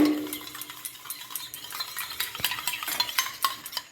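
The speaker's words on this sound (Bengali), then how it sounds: "টক দইটাকে ফাটিয়ে নিচ্ছি ভালো করে" Sour yogurt is whisked briskly in a bowl for cooking, producing rapid, regular clicking and tapping strokes up close, with no voices.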